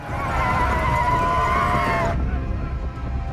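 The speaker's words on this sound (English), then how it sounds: "the horses come over the hill with the Dothraki" Horses of the Dothraki horde charging over a hill in Game of Thrones, a loud, wavering whinny above a rumbling mass of hooves that keeps thundering after the neigh breaks off.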